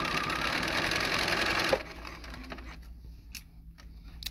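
A Bernina sewing machine stitches with dual feed engaged in a fast, even mechanical chatter, close up. It stops abruptly partway through, leaving faint clicks and light handling noises.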